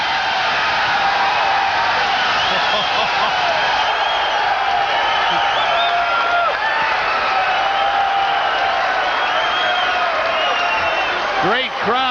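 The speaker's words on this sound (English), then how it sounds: "Great crowd reaction to a 4-round bout" Dense, loud crowd roar of cheering, whistles and whoops at a professional boxing match, sustained steadily after a knockout ending a four-round bout.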